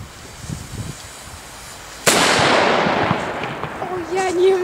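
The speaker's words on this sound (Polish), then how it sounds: "odpalimy sobie teraz małą petardkę, żeby sprawdzić, czy ta miejscówka się nada na strzelanie" A small firecracker bursts with one sharp, loud bang on a New Year's Eve night outdoors, followed by a decaying rumble and distant crackles, with people talking around it.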